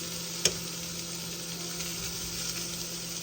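Chicken pieces sizzle steadily in a hot pan, a continuous close frying hiss with one sharp tick near the start and no talk.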